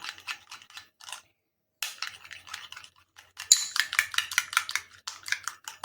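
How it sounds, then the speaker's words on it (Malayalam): A spoon stirs a mixture in a bowl with quick, rhythmic clinks and scrapes, pausing briefly before resuming in steady close-up strokes. "ഇനി നമുക്ക് നന്നായിട്ടൊന്ന് ഇളക്കി കൊടുക്കണം"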